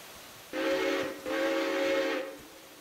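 A steam locomotive whistle on a heritage railroad gives two loud, steady blasts, a short one and then a longer one, with a faint hiss around them and nobody talking.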